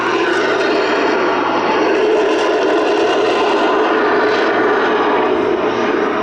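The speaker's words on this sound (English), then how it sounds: "you'll see the aircraft taxiing past with its jet engines only" Pitts S-2S aerobatic biplane taxiing on its jet engines alone at the Duxford summer air show, a steady loud broadband engine roar with a low hum, holding constant and close throughout without speech.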